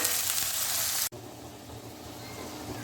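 Tomato, chopped onion and green chili fry in a pan with a steady, bright sizzle. There is a sharp clunk about a second in, and after it the sizzle continues more softly and evenly.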